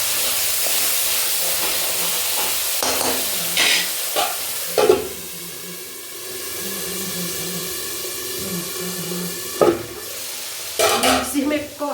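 Masala for matar paneer sizzles and fries in a pan, with a steady hiss of oil under intermittent scraping stirs of a spoon against the metal.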